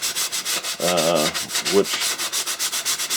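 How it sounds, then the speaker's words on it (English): A foam sanding block rubs steadily over wood during restoration of a 1918–1920 Union Tool Chest Co. machinist chest, giving loud, rhythmic back-and-forth scratching strokes; someone talks briefly over it. "Nice thing about these sanding blocks is they're foam."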